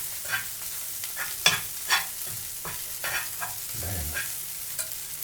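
Flour cooks down in a pan of butter for a homemade egg chowder. A spoon stirs it in repeated scraping strokes over a faint, steady sizzle, with no voices.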